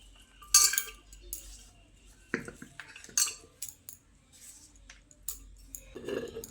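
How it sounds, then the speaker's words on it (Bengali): Banana flower pieces loaded by hand into a metal pressure cooker: scattered close clinks and knocks of metal, a few sharp bursts between quieter rustling handling. "এখন একটা প্রেসার কুকারের মধ্যে মোচাগুলোকে ভরে নিচ্ছি।"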